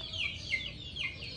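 A Sindhi Aseel fighting rooster gives a short run of close, clear clucking calls, a few quick rising notes repeated alone with no talk.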